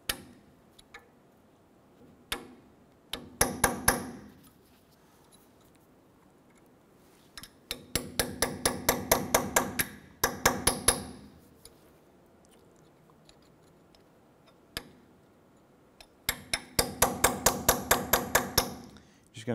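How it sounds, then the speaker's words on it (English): A hammer drives a punch to work a broken cotter pin out of the threaded stud of a 1993-1997 Ford Ranger front upper ball joint: three runs of rapid, sharp metallic taps, with single isolated strikes between them. "there's remnants of the cotter pin in the thread here, so we're gonna go ahead and use a punch"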